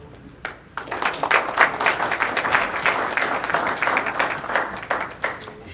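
At a Haitian American festival press conference in Palm Beach, an audience bursts into sustained applause that rises abruptly and carries on steadily, loud and dense, with a few voices mixed in.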